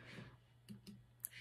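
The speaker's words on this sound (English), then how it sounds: "I'm just typing something in" A few soft clicks of typing on a computer keyboard, quiet and close, coming in two or three spaced taps after a brief murmur of speech.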